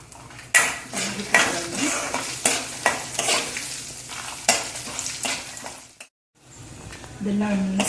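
Asafoetida drops into hot oil for tempering and is stirred, a repeated metal spoon scraping and clanking against the pan over a continuous sizzle, with a brief pause near the end and a voice over part of it.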